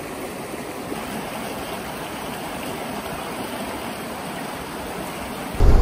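Steady, loud rush of a river flowing beside a lunch spot in the Pyrenees, a constant broadband wash close by that runs unbroken until a louder bump at the very end.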